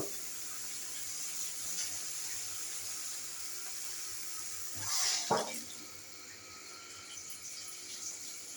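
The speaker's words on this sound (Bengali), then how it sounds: "এবার দিয়ে দেবো আমি জল" Water is poured into a cooking pot for a bottle gourd and shrimp dish, a steady soft hiss of running liquid that swells briefly with a splash and a clunk before tapering off, close and fairly quiet.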